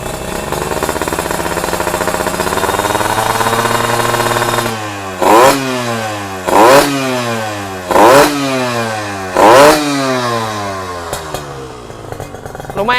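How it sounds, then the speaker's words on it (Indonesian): A Kawasaki KSR motorcycle fitted with a Ninja engine idles loudly and close, then is revved sharply four times in a row, each burst climbing and falling back, before it settles to idle again. "Suara mesinnya seperti ini."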